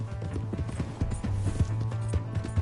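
Hooves of a horse in the western video game Red Dead Redemption 2 pounding in a quick, uneven galloping rhythm, close and fairly loud, with a low engine-like drone and brief snorting sounds in the background.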